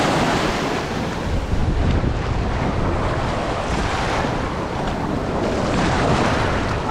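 Steady, loud surf of waves breaking on a beach, mixed with heavy wind buffeting the microphone, continuous and unbroken with no talk.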